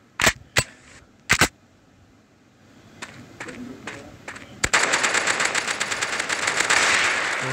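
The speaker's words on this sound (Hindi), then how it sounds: "ऐसी गन है लेकिन चलती आराम अच्छी है" Gunfire from the mobile shooter Mask Gun starts as a few sharp separate shots, then turns into a loud, continuous rapid automatic burst that runs to the end.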